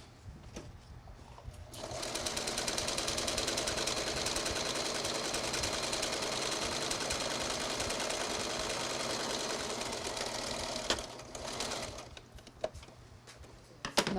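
In a Belize sewing factory, a sewing machine runs a long straight seam on cloth, a loud, steady, close whir lasting several seconds before winding down into a few clicks and handling noises.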